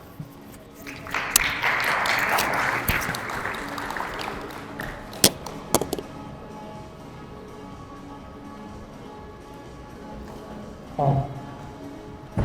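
A tech conference audience in Uzbekistan breaks into a short burst of clapping to welcome a speaker. The applause fades after a few seconds into quiet room noise with a few scattered knocks.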